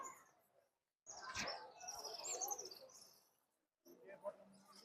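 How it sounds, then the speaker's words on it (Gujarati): Busy chirping of sparrows in quick overlapping bursts near a temple in Sarangpur, Gujarat, with a short quiet gap before more chirps and some background voices. "ચકલા જો કેવા ઉડે, બહુ ચકલા હો ભાઈ."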